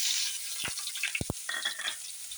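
Mustard seeds with crushed garlic and ginger frying in hot coconut oil, a steady close sizzle with a few sharp pops and crackles spattering through it.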